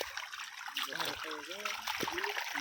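Rainwater trickles and runs through an open village drain after unseasonal rain, a steady close wash of flowing water with someone talking over it.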